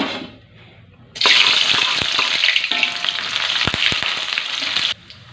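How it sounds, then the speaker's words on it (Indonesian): Shallots and garlic hit hot oil after a quiet start, bursting into a loud, close sizzle with crackles and spoon clicks that holds steady for several seconds, then cuts off abruptly near the end. "ini minyaknya udah panas. Kita langsung masukin aja bawang merah bawang putihnya."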